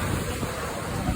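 Rough sea waves churn in a steady, close wash of surf, and wind noise buffets the microphone throughout, with no talk.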